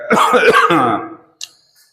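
A loud, close burst of throat clearing and coughing, a few rough hacks in quick succession, followed by a faint click.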